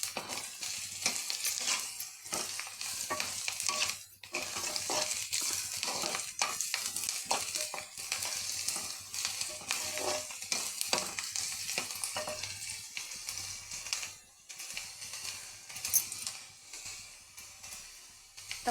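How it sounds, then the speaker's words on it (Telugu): Onion, garlic and curry leaves frying in hot oil give a close, steady sizzle broken by frequent scraping stirs of a spoon against the pan, continuous throughout with no voices. "ఇలా బాగా దోరగా ఫ్రై అవ్వాలండి. ఇది ఉల్లిపాయ, వెల్లుల్లి, కరివేపాకు,"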